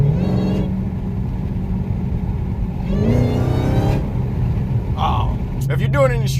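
A Dodge Hellcat with a new JLT cold air intake revs in short bursts, its engine note rising and falling loud and close while someone talks over it.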